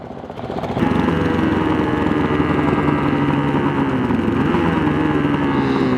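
A TA125 tribute motorcycle built by Griffin Custom roars steadily while being ridden, the engine note swelling after the first second and then holding a loud, constant droning buzz with no talk.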